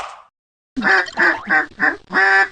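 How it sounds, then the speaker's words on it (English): A handheld duck call sounds five loud, close, nasal quacks in a quick, slightly uneven run, after a short faint blip and a brief silence. "I'm playing with some of these duck calls I ordered online"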